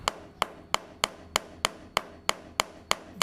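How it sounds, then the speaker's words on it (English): A small tack hammer taps a little wire nail steadily, about eleven light, evenly spaced metallic strikes, close by with a faint background hum, during a 1947 MG TC rebuild. "we got our tack hammer"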